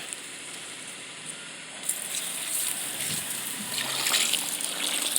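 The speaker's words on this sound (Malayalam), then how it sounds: "വെള്ളം പൈപ്പ് തുറക്കട്ടെ." Water rushes steadily from an opened pipe at a roadside home, a soft, constant gush that swells slightly louder after the first couple of seconds, with no talking.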